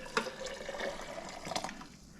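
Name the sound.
coffee being poured into a pour-over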